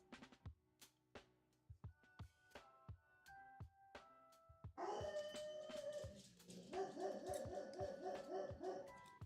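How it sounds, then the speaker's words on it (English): A household dog barks in repeated sharp yelps indoors, first sparse and spaced, then joined by a busier, denser stretch of barking and whining in the second half, fairly close and loud. "And the dog is barking."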